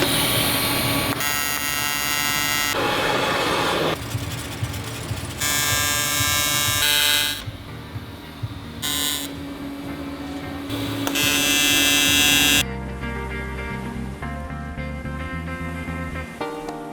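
A welding arc buzzes and crackles as it cleans metal without laying a bead, in harsh loud bursts that start and stop repeatedly, close up, during work on a Twin Spark Giulia Super.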